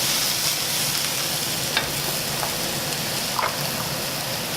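Vegetables sizzling hard in a frying pan over high heat, a dense continuous crackle with occasional louder pops, steady and close throughout.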